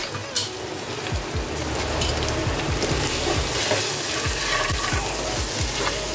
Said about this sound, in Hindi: सबसे पहले जो मसाले है, मसाले डाल देता हूँ